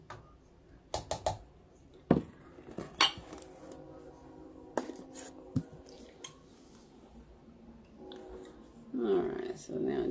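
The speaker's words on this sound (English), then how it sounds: "So now I just stir it in there." Utensil stirring strained skin and meat in a pot, with scattered clinks and scrapes against the metal, near and moderately loud, under a voice talking throughout.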